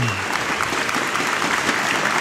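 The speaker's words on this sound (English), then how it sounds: "And that's the biggest applause for our 2012 Brunswick Euro Challenge champion, Mike Fagan." Applause for the 2012 Brunswick Euro Challenge bowling champion after the stepladder finals fills the hall: a dense, steady wash of clapping from a large crowd, loud and sustained throughout.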